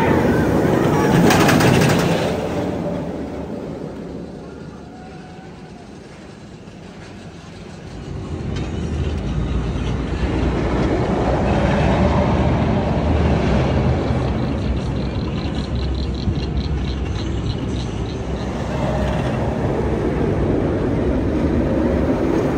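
Nine-row B&M roller coaster train at Six Flags Over Georgia rumbles past, a loud roar that fades to a distant hum then swells again into a long sustained rumble, with faint crowd noise around.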